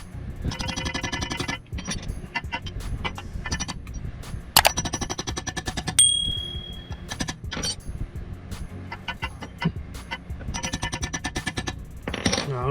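Metal tool rapping a bearing out of the belt-side cover of a Yamaha Aerox 155 scooter: rapid, loud, sharp metallic strikes in dense bursts separated by short pauses.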